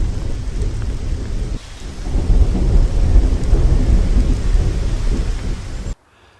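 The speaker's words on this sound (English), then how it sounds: "Then we had thunderstorms" Thunderstorm with heavy rain in the New Forest in early September, a steady wash of rain with deep rolling thunder rumbling beneath it throughout, loud and close, with a brief dip in intensity before the roar returns and then cuts off abruptly.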